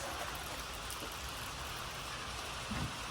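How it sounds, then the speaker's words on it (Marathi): Steady rain falling outdoors, a continuous broadband hiss with no voices, holding at an even, moderate level throughout. "बाहेर दाखवू ना पाऊस चालू आहे"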